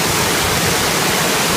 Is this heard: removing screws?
no